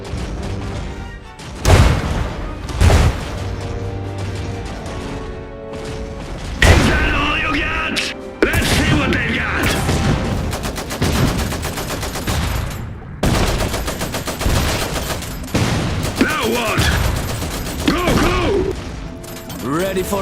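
Gunfire and explosions in the video game Iron Harvest: loud rattling machine-gun bursts, rifle volleys and heavy booms mixed with mechanical clanking, with soldiers' voices calling out over the combat.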